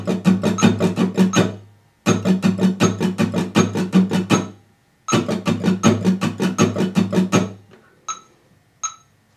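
A beginner's guitar strums quickly and evenly, four per metronome click, in three dense bursts broken by brief pauses. At the end the metronome's sharp ticks carry on alone.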